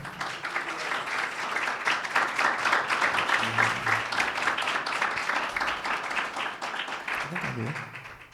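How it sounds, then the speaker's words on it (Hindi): Church congregation clapping for Jesus Christ during a sermon on marriage, with sustained, moderately loud applause that swells and then eases, and a voice briefly audible near the end. "यीशु मसीह के लिए तालियां बजाएं"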